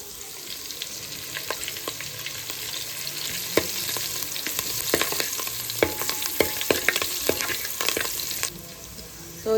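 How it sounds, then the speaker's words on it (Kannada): Slit green chillies fry in hot oil, a close, steady crackling sizzle with frequent sharp pops and spatters, and occasional scrapes of a spoon against the pan, with no voices. "ಈ ರೀತಿ ಹಿಂಗೆ ಫ್ರೈ ಆಗ್ಬೇಕು ಮೆಣಸಿನ್ಕಾಯಿ."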